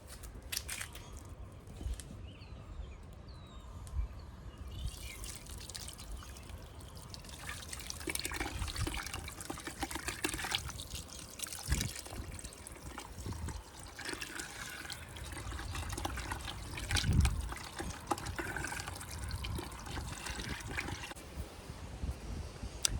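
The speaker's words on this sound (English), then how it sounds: "will you turn the hose on a little bit?" A garden hose runs outdoors while fish fertilizer is being made, a soft, uneven trickle and splash of water that goes on quietly throughout with small knocks and rustles around it.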